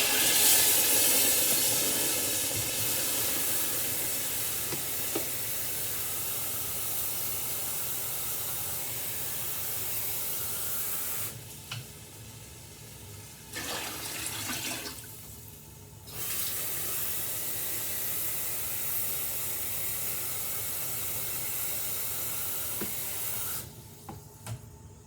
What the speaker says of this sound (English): That was about 3/4 of a gallon of broth and water mixture.